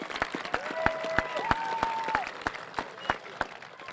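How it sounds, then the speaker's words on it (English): A high school graduation audience in Southern Oregon claps: scattered, distinct hand claps from a modest crowd, spaced unevenly, with a faint drawn-out tonal sound and murmuring in the background. "Go ahead and clap."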